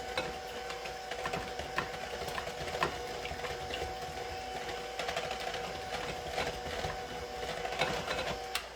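An electric mixer beats almond poppy seed muffin batter with a steady, unbroken motor whir that holds at an even level throughout, with no talking.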